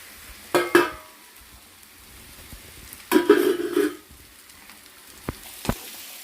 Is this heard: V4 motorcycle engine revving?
no